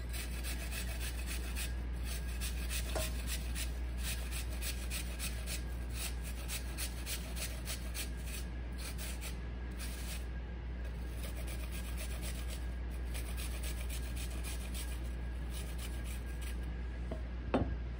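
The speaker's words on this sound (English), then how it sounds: "we're just gonna grate this directly into the bowl" Food grated by hand straight into a bowl, a long run of rapid rhythmic scraping strokes over a steady low hum, close and fairly quiet with no talking.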